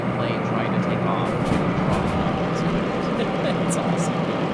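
A diesel locomotive in the Derail Valley train simulator game roars with a steady, dense, airplane-like drone that fills the whole stretch, loud and continuous.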